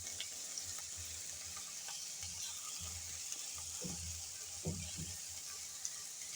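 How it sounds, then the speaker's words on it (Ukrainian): Onions sizzle and crackle steadily in a hot frying pan, with faint stirring scrapes and occasional soft clinks, no voices. "обжарюю цибульку на сковорідці"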